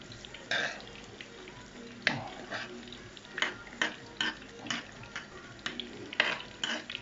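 Fried meat meatballs are lifted from hot oil and dropped into tomato sauce, giving a series of soft sizzles and wet plops with clinks of a utensil against the pan at an irregular pace.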